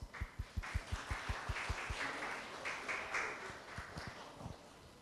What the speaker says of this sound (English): Please get applause.